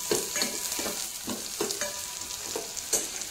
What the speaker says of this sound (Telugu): మనం అలాగే 1 టేబుల్ స్పూన్ తాలింపు గింజలు వేసి ఈవెన్గా రోస్ట్ అయ్యేటట్టు కలుపుకోవాలి